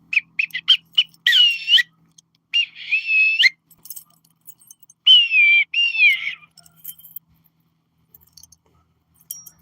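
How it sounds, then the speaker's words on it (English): A small cheap whistle blown in several short bursts, a few quick toots followed by longer warbling blasts, close and fairly loud, with quiet gaps and faint clinks between. "Blow the whistle."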